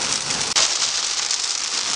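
Heavy rain pounds steadily on a moving car, a dense, loud hiss of drops on the roof and glass with one brief dip partway through.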